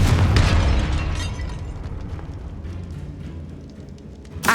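The Confringo fire spell in Hogwarts Legacy bursts into a loud, close explosion at the start, its blast rolling into a long fading rumble, with a second sharp pop at the very end.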